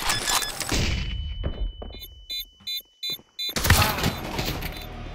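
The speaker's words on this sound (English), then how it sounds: "Deploying flashbang." A flashbang grenade goes off in Counter-Strike 2 amid loud gameplay noise, followed by a high, steady ringing tone with pulsing beeps before the busy battle sounds return.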